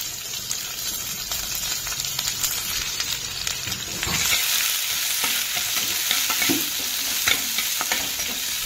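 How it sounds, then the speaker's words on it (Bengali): Garlic and chopped onion hit hot oil with cumin and dried chilli, giving a loud, continuous close-up sizzle that grows busier midway, with scattered crackles and spoon scrapes and no talk. "এবার আমি এর মধ্যে দেব আমি একটুখানি রসুন, তারপরে দিয়ে দেবো পেঁয়াজ কুচি"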